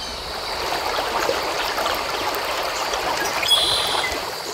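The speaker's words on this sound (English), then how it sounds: "The sounds of the river and the birds, mixed with the smell of wildflowers" The Ausable River runs over a shallow stream bed in the Adirondacks, a steady, even rush of flowing water alone at moderate distance, with no voices.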